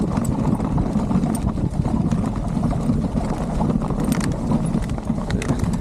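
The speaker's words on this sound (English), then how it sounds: "Take on a little speed, you hear more rocks, more mud." Rungu dual-sport motorcycle riding over rocks and mud on a forest trail, a continuous rough rumble of engine and tires with scattered clatters and crunches from stones, steady and close throughout.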